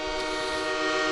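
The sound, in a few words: train horn sound effect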